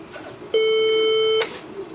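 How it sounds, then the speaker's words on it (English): A single long, steady electronic beep sounds from an HP 24 series all-in-one touch screen PC at startup. It is loud, close and lasts about a second over faint background hiss. "the 4 beeps is probably testing the RAM"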